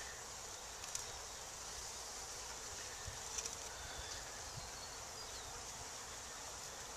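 Italian honey bees from a package being installed into a hive outdoors, a soft continuous buzzing hum of many bees, faint and steady, with light rustling and a few small clicks.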